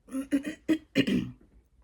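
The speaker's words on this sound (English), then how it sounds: "I'm still clearing my throat." A voice clears its throat several times in short rough bursts, close and moderately loud, trailing off into quiet.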